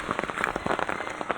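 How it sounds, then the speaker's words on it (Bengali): Rain falls in a mango garden, a soft, dense patter of drops with scattered brighter taps, steady and fairly faint outdoors. "পুরো বৃষ্টি পড়ছে।"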